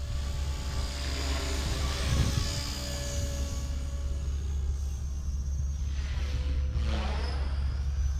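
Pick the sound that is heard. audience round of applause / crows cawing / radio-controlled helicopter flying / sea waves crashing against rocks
radio-controlled helicopter flying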